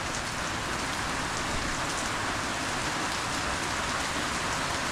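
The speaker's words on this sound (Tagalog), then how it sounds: "Ah, ganitong ulan." Heavy rain pouring steadily in a dense, unbroken hiss with no pauses, close and loud.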